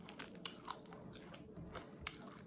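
Crunchy bites into crispy deep-fried fish, several sharp crackling crunches in close succession, near and fairly quiet with no talking.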